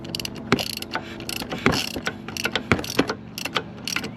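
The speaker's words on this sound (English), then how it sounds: "I wanted to turn the motor over, and right now the spark plug is still in." Engine of a 1986 Honda three-wheeler being turned over by hand with the spark plug in and throttle closed, giving a series of close mechanical ratcheting clicks and clunks in uneven bursts, with no talking.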